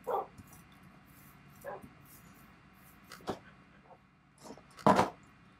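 Pet dogs in Minecraft give short barks and yips, scattered irregularly and growing louder and closer, with one strong bark near the end.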